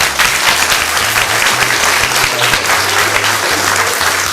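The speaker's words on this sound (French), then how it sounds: "vous pouvez applaudir également" An audience applauds at a December awards ceremony for volunteers and athletes, a loud, dense, continuous clapping with low music or hum running underneath.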